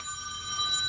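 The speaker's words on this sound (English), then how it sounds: "that is my phone." A mobile phone rings indoors with a steady electronic tone, fairly clear and alone over faint room noise.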